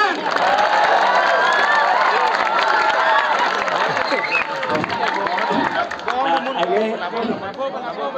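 A lively crowd at a Balinese calonarang temple ceremony claps and cheers, loud and continuous, mixed with chatter, shouts and laughter from many people close by.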